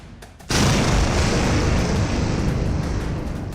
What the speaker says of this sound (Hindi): नूर खान बेस पर धमाका